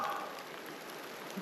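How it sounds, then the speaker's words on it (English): Hailstones fall in a steady, dense outdoor patter, a constant near hiss of tiny impacts with no voices. "It's not even rain, it's hailstone."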